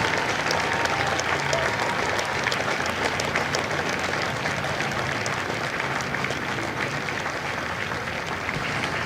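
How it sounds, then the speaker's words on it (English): An audience at a Marine recruit graduation at MCRD San Diego gives a steady, continuous round of applause, even and unbroken throughout. "Ladies and gentlemen, a round of applause for their dedicated service to Corps and country."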